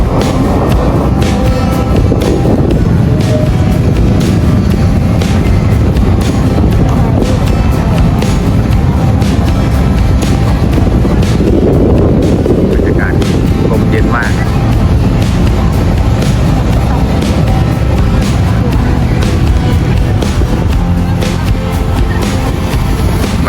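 Steady wind buffeting the microphone on a bridge over a river in Bangkok, a continuous broadband rush with passing boat or traffic rumble beneath, loud and unbroken throughout.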